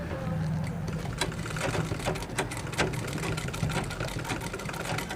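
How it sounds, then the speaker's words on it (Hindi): A sewing machine stitches a school skirt with a steady whirring, rapid rhythmic hum and faint clicks, running continuously at close range while someone speaks over it. "दो 3 बार सिलाई यहाँ मार लें आप"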